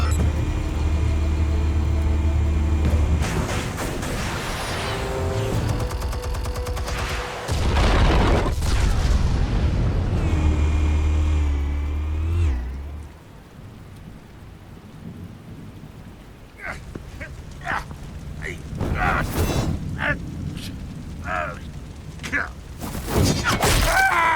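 Explosives detonate in a Batman game scene: deep, loud booming and rumbling that surges for several seconds, then fades into scattered crackling impacts and debris.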